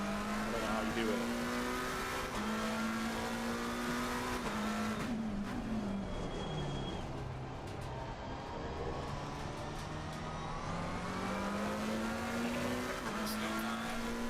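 A race car in Assetto Corsa Competizione drives hard around an online circuit, its engine droning steadily and rising in pitch as it accelerates, easing briefly and then building again. Someone talks over it the whole time.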